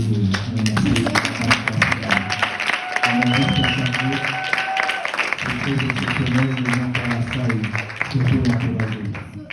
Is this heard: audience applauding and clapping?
yes